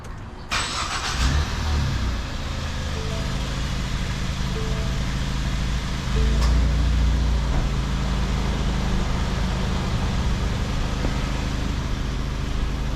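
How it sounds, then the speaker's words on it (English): A 2014 Ford Fusion with a steering noise, raised with its wheels off the ground, cranks and starts, then settles into a loud, steady idle close by, with a brief engine surge partway through. "I'm just gonna start it and see if it makes noise while the weight is off the wheels here."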